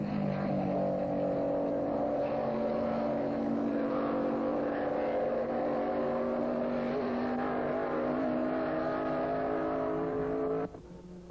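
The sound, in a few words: 1957 Formula 1 race cars passing at speed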